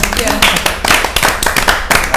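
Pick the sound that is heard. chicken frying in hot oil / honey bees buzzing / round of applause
round of applause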